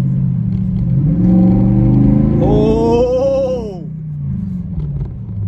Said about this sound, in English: this is wide open throttle, just like a little bit of like pedal action